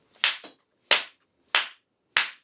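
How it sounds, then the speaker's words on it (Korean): Four loud, sharp hand claps ring out in an even rhythm, close and isolated, with a quick double clap at the start. "박수 소리 크게 치는 나 칭찬합니다"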